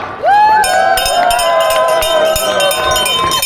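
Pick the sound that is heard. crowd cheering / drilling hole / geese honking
crowd cheering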